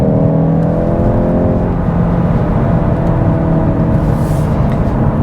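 A 2022 VW GTI engine and exhaust accelerate, heard from inside the car as a loud, rising drone with a steady rumble underneath that holds for several seconds.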